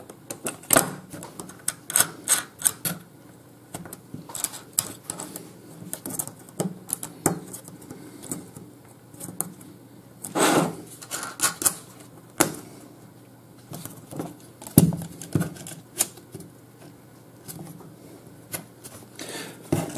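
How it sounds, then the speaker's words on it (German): Small metal lock nuts are tightened by hand on an LED controller, giving a close, irregular series of light clicks, taps and scrapes of metal and plastic spread across the whole stretch, with no voice. "Dann drehen wir das Ganze um und ziehen diese Kontermuttern hier fest."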